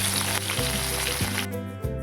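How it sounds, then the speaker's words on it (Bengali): Chopped onion dropped into hot oil with cumin seeds, a loud, continuous close sizzle with a few soft clinks of utensils against the pan. "জিরে ফোড়ন দিয়ে দিলাম পেঁয়াজ কুচি।"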